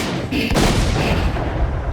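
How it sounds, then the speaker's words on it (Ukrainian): A red gas canister explodes in the game Stalker: Call of Pripyat, a loud, close blast that rolls into a dense, rumbling roar sustained across the whole stretch, with no talking. "ці червоні балони вибухають"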